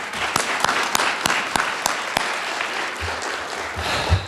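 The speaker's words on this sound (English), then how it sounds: "How about another round of applause for Colonel Marr?" A room full of people gives a sustained round of applause for Colonel Marr at a morning ceremony, steady dense clapping with a few crisp individual claps cutting through near the start and a low murmur toward the end.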